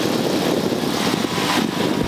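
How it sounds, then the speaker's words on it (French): A light aircraft taking off gently with the nose wheel lifting: a steady, loud propeller-engine roar filling the cabin without a break, no talk heard. "Et là, je te fais un décollage tranquille."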